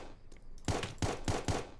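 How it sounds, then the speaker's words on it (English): Gunfire in the Roblox survival shooter Apocalypse Rising 2: four sharp, evenly spaced shots, loud and close, following a few faint distant pops. "Oh, there's gunshots, like, right"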